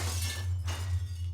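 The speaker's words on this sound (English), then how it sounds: "you can destroy these glass walkways below you if you wish" Glass walkway shattering in System Shock 2, a single burst of breaking glass that spills into a scattering crash and fades out over about a second, heard alone above a steady low hum.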